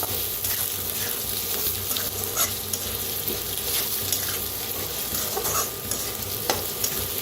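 A spoon stirs Kolhapuri red chili powder and turmeric through hot oil in a pan, giving a steady close sizzle with soft scraping strokes and a few sharper clicks of the spoon.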